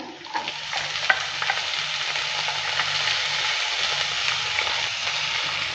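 Pointed gourd peels being stirred and fried in oil with garlic and onion, a steady close sizzle with scraping stir strokes throughout.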